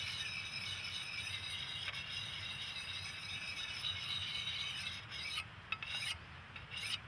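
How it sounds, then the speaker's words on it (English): A coarse diamond hone rasps steadily along a metal blade during timber-dressing work on a Norwegian log house, a continuous near, gritty scraping with a few brief breaks near the end and no voices. "But when you're using a coarse diamond one like this, diamond bryn and diamond hone,"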